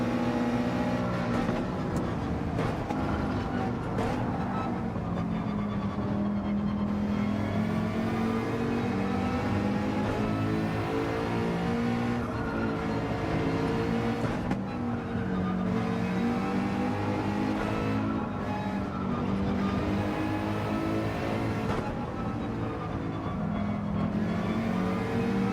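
A McLaren race car in Gran Turismo 7 drones steadily at high revs, the engine pitch rising and falling through gear changes across a long continuous run, loud and close, with no talking.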